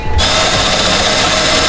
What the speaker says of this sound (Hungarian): a ponthegesztést fúrom el